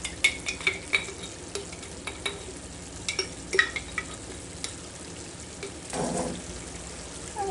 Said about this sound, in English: And we're just going to mix everything together.